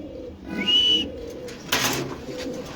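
Pigeons at a pigeon farm in Mirpur, with Danish and Velvet breeds and newly hatched squabs, give soft cooing and a brief whistled call over a low, busy room ambience, close and moderately loud.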